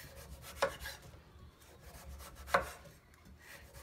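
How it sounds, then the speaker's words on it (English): A knife slices the rind off a cantaloupe, giving two distinct close cutting strokes with soft scraping between them on a quiet background. "cut off the exterior."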